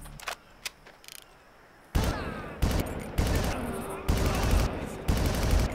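Rifle gunfire in the Far Cry video game: after a few faint early pops, loud bursts of rapid shots come in repeated volleys, each ending abruptly, up close and dominating the scene.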